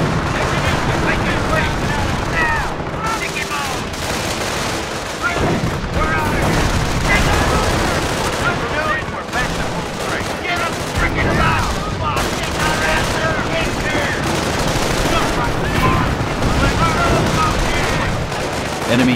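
Continuous gunfire and explosions rage around a base in the World War II strategy game Company of Heroes, a dense, loud barrage with occasional radio-style voice lines mixed in.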